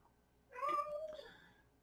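A pet cat meows once, a drawn-out, wavering call that rises and falls, fairly close in a quiet room with no talking.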